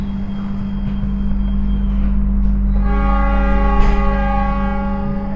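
KA Parahyangan train idling at Jatinegara station before departure: a loud, steady low diesel drone with a strong hum, joined near the end by a sustained tonal horn-like chord with layered harmonics, no talk.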